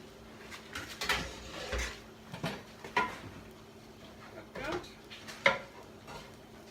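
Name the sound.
lid being taken off a pot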